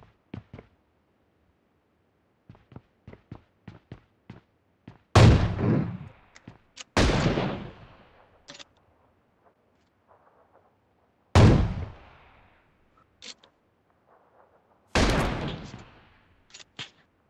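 Gunfire in the mobile battle royale BGMI: four loud single shots with long ringing decays, spaced several seconds apart, among faint clicks and small taps in otherwise quiet play.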